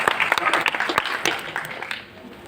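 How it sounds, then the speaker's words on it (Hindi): An audience at a Hindi comic poetry gathering (kavi sammelan) breaks into applause, a dense burst of many hands clapping that swells and then fades out over a couple of seconds. "एक बार दैनिक जागरण के लिए आप एक बार जोरदार ताली बजा दीजिए"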